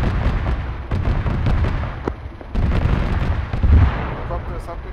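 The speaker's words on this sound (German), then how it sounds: "Jan, erster Schuss." A loud gunshot-like blast rings out in a noisy ArmA 3 battle scene, with rumbling booms and voices underneath.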